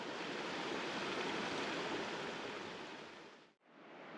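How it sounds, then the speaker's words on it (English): Mountain creek water rushes steadily over rocks at a crossing on a trail in Rocky Mountain National Park, a close, full, continuous roar that drops out abruptly near the end, then resumes. "I'm crossing over Chaos Creek, and it looks like the water is back to its normal color."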